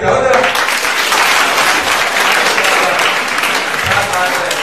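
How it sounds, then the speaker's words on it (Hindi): An audience bursts into dense, sustained applause that fills the whole clip at full volume, with voices mixed in underneath. "ताली बजाओ जरा"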